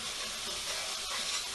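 Chicken pieces fry in a wide pan for a British Indian Restaurant-style chicken pathia, giving a steady, broad, close hiss and sizzle with no talk.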